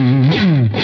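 Schecter Nick Johnston electric guitar on its second pickup position, a brief sustained chord with effects and slight distortion ringing out alone.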